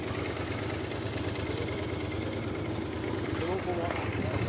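A car engine idles at a roadside police traffic stop, a steady, continuous low rumble with a faint voice talking over it.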